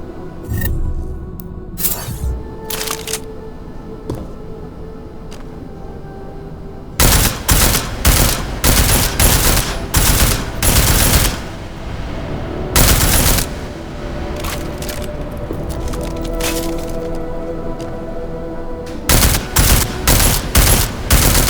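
Loud gunfire in the video game Deus Ex: Mankind Divided, with sparse single shots at first, then dense sustained bursts of automatic fire, a lull, and another heavy burst, all close and booming.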